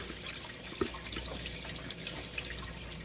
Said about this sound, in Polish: Ładnie się woda przelewa przez obie skarpety.